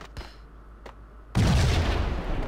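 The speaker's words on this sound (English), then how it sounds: "Another grenade." A grenade detonates in the video game Max Payne: a couple of faint gunshot-like pops, then a sudden loud, broad boom that lingers as a dense rumbling roar to the end.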